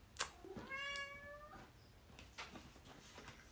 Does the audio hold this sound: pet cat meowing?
yes